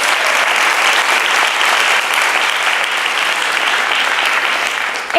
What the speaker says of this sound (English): So one more round of applause for these great venues.